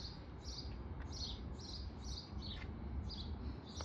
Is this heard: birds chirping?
yes